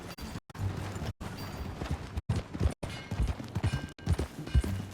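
Horse hooves clop and gallop in a rhythmic run in Red Dead Redemption 2, the galloping drumming steadily at close range with brief gaps between bursts.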